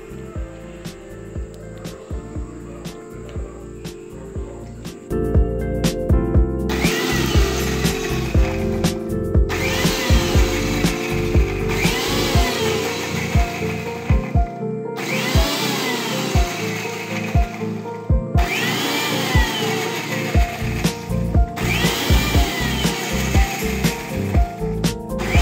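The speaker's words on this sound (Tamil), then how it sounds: "இத வந்து கொஞ்சம் கொஞ்சமா நாம இதல விட்டு அரைக்க போறோம்" Mixer grinder blending half of 250 ml of cooking oil into homemade mayonnaise: a steady motor hum gives way to loud, pulsing whirring bursts that surge and pause repeatedly, running alone without talk.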